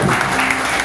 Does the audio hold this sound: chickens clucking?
no